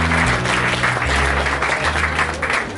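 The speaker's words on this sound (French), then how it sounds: "Et on peut vous applaudir." An audience at an evening launch party on avenue Foch in Lyon claps loudly and continuously, the dense applause steady throughout over a low sustained musical drone.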